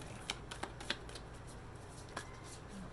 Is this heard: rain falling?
no